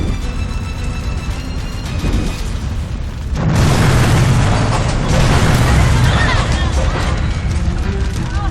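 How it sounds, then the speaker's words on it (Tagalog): An LPG gas tank bursts during a fire, a sudden loud boom that gives way to a heavy roaring rumble and crackle lasting several seconds, over the earlier noise of commotion. "sumabog daw po yung LPG"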